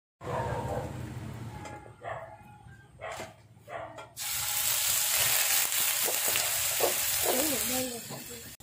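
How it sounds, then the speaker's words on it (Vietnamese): Pork ribs fry in oil in a pan, first a few bursts of sizzling, then a loud, continuous crackle and hiss that fills the second half, with a voice and brief animal-like sounds heard underneath. "Bây giờ mình sẽ chiên sườn nha các bạn."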